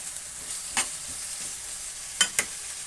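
Chayote tops sizzle in a hot pan under a constant hiss, with a few crisp scrapes and clacks of a utensil stirring them.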